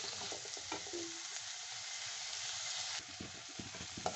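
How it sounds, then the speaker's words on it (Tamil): Tomatoes sautéing in a pan for a garlic curry, giving a steady, fairly quiet sizzle broken by light stirring clicks, with no voices. "இப்போ தக்காளியும் நல்லா வதங்கி வர அளவுக்கு நம்ம நல்லா வதக்கணும்."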